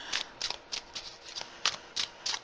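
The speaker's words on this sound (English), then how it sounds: "I'm just shuffling the cards to get ready for that." Tarot cards being shuffled by hand give a close series of quick, crisp riffling flicks in an irregular rhythm, each one short and papery, over a quiet background with no talk.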